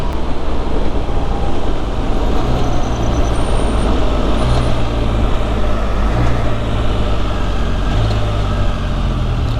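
A Can-Am Spyder rides along with a steady, loud engine and wind roar, and its engine note drops in stepped changes as it shifts down automatically.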